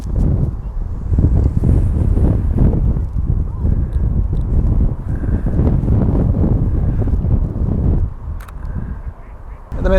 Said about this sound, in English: It's getting a bit very windy now